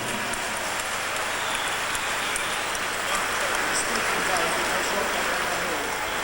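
An outdoor crowd at a Goldwing motorcycle rally in Norwich claps for Brigitte, sending up a steady, moderately distant patter of applause with a few louder claps and faint voices underneath.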